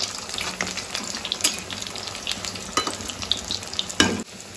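Pieces dropped one by one into hot oil fry with a crackling sizzle for an arhar dal dish, broken by stirring scrapes and a few sharper clatters, close and steady with no speech.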